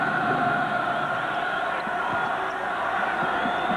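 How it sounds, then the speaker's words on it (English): Sustained crowd roar filling a college basketball arena during a Notre Dame home game against Indiana, a dense steady wall of cheering voices at constant loudness. "Listen to this crowd."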